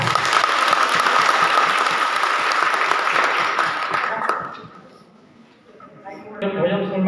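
Audience applause at a stage show, dense, even clapping that fades out around the middle, then a brief quiet before music and voice come back in.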